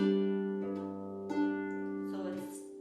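Harp sounding an octave G with the notes split, the low note plucked first and the top note entering after, sustained harmonic tones ringing in a steady sequence of plucks, close and clear with no talking.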